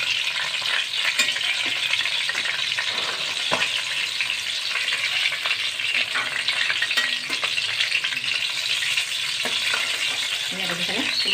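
Chicken pakora pieces fry in oil over a low gas flame, a dense, even crackling sizzle that runs unbroken and close throughout, with a few soft clinks near the end and no talk.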